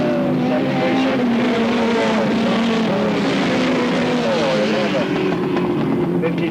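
Race cars at Alwalton Raceway in 1983 drone past with loud, wavering engine notes rising and falling together, under continuous commentary from a race announcer.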